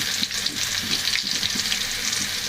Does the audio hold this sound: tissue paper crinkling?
no